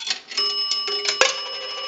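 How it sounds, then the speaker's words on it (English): An Automatic Electric three-slot payphone rings its coin bell as coins drop in. Several metallic strikes are heard, with a bright ringing tone that lingers between them. The sound is clear and close, and nobody speaks. "We're going to use a dime. That will ring the bell two times."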